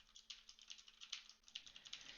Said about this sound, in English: just how much feedback from a mechanical keyboard will come through on your microphone